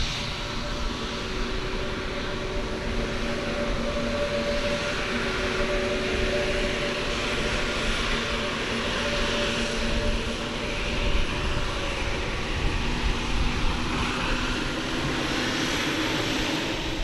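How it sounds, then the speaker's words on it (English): A passenger plane takes off at Skiathos Airport in Greece, its jet engines making a loud, continuous roar heard up close for the whole stretch, with a steady broadband rush and a few faint tonal whines. "a passenger plane taking off from Skiathos Airport"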